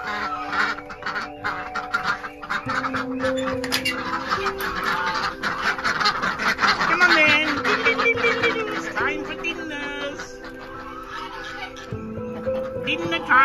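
A noisy flock of farm ducks and geese at a small zoo keeps up overlapping quacks, honks and clucks, dense and close, without a break.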